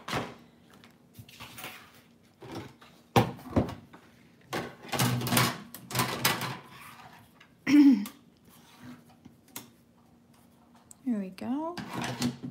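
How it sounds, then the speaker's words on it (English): A die cutting machine runs paper leaf shapes through in short mechanical bursts of rolling and clunking, with gaps and a creaky squeal near the end, fairly close and alone. "So we're gonna die cut those out real quick."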